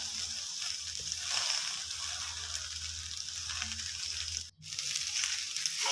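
Kale leaves hit a pan of fried rice with nam (sour pork), which sizzles and hisses steadily, with a brief sharp crackle near the end.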